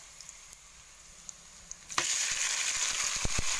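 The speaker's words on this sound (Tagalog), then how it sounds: "Tayo ay nagisa na ng sibuyas at bawang. Isusunod natin dyan ang kamatis." Tomatoes added to onion and garlic already sautéing in a pan for pinakbet, a quiet low simmer that suddenly bursts into loud, steady frying sizzle with small crackles and stirring clicks.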